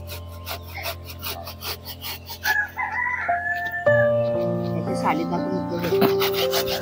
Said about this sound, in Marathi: हा हे बघा हे मावशीने किसायला घेतलंय।